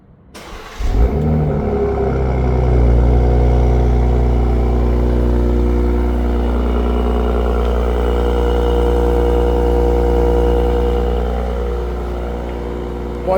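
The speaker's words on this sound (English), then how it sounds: "So that's going to be for the remote engine start." A 2025 BMW M440i xDrive coupe fires up by remote start, with a sharp catch and brief rev flare before settling into a steady, deep cold idle that hums on close by for many seconds.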